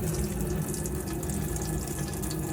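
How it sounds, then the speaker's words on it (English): Water runs steadily from a tap in a Sunliving Lido S42SL caravan, a close, continuous gushing rush with the hum of the water pump underneath. "So if we pour the water through like that"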